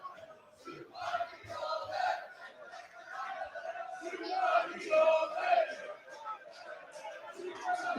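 Football crowd in the stand at Gateshead International Stadium during a match against Blyth Spartans, a distant hubbub of chanting and shouting that swells and fades unevenly.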